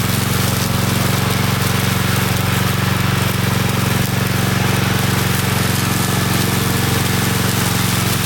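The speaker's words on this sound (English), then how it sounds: "Koham remote control lawn mower makes gardening maintenance easy." A Koham remote control lawn mower with a bottom mowing disc runs steadily, its motor giving a loud, constant drone with a low hum and broad whirring noise, unbroken and close throughout.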